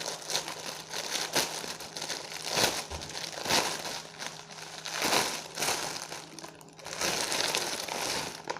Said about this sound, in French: Désolé pour le bruit, hein, c'est le sachet plastique